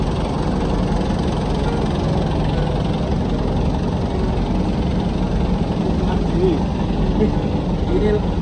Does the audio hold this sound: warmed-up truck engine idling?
yes